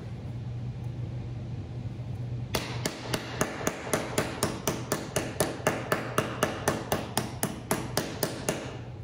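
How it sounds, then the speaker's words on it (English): A steady run of sharp metallic hammer taps smoothing a curved sheet metal flange, evenly spaced and close, starting after a quiet hum with a low drone underneath. "I'll run that hammer across here and smooth it out"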